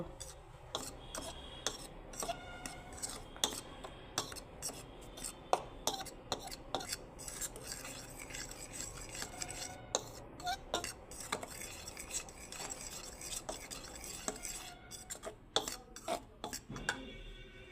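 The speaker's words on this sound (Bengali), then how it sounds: "লবণ দিয়ে দিচ্ছি আর এখন আমি সব ভালো করে মিক্সড করে নেব" Cauliflower tossed with salt and spices in a bowl, bright scattered clinks of a utensil against the dish and soft stirring, close and fairly quiet with no talking.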